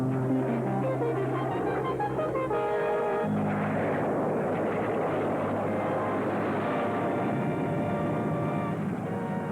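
Snowbirds aerobatic team aircraft roar overhead during a parade, a loud, sustained engine drone with shifting tones that dominates throughout.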